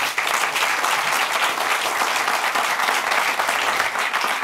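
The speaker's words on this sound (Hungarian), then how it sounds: "Így nagy tapsot szeretnék én is Norbertnek." Studio audience applauding a departing guest at the end of a Hungarian evening talk show, a steady, dense clapping that fills the room and holds evenly throughout.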